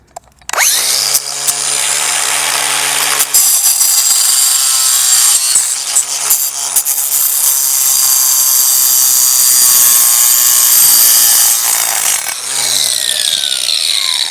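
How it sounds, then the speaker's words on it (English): A power tool trims model railway track, a loud sustained buzzing whine that runs almost continuously with brief dips and restarts, close up and alone. "So we trimmed our track."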